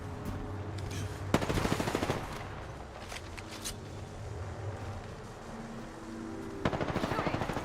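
Rapid bursts of automatic gunfire in a shooting video game: two dense rattling volleys a few seconds apart, with scattered shots and mechanical clatter between them, all close and fairly loud.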